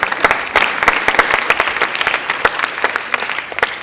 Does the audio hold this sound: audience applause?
yes